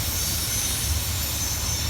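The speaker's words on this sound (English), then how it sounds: "It's a nice place to watch trains" A fast CSX freight train rushes past nearby in Princeton, Indiana, a steady, loud roar of rolling cars and rumbling wheels with a faint high metallic ring, continuous and unbroken with no voices.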